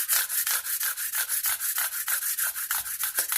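Banjo frets being rubbed with 180 grit sandpaper, a steady back-and-forth scratchy sanding of about fifteen strokes in quick rhythm, close and fairly loud with no talking.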